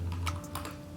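Typing on a computer keyboard while entering an ADB reboot command for an Android phone: a few brisk key clicks in quick clusters over a steady low hum, close and fairly quiet.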